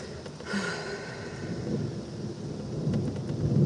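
Thunder rumbles at a distance during a nighttime lightning storm in Nebraska, a low continuous roll under steady rain-like hiss that builds slightly toward the end, with no talking.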